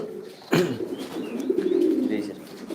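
A pair of Baghdadi pigeons coos at a pigeon farm in Sylhet, giving a close, low, rolling coo that swells and holds after a sharp onset.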